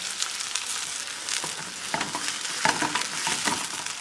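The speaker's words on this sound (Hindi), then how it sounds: "घी गर्म हो गया है, और अब हम डालेंगे कटा हुआ प्याज" Chopped onion frying in hot ghee, a dense, continuous close sizzle with occasional stirring scrapes, no voices.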